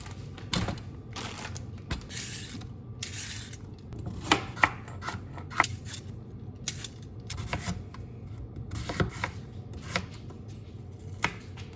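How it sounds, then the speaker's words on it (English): A knife chops a large batch of non-starchy vegetables on a board, giving quick, uneven taps in irregular bursts, close and fairly quiet with no talking. "that took me 4 minutes to chop all of these veggies up"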